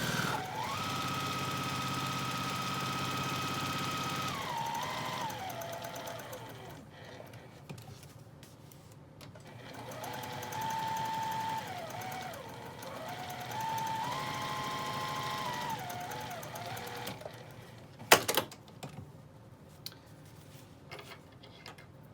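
A sewing machine runs a 1/4 inch seam around a mesh produce bag, a steady mechanical hum with tonal whine that speeds and slows in bursts, pausing midway, then a sharp click near the end.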